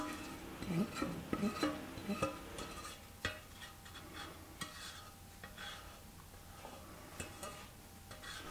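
Berry syrup mixture, blueberries and strawberries, scraped and poured from a pan into an oven-proof dish, with a few clinks and scrapes of utensil on cookware early on, then soft intermittent taps and stirring noises at close range.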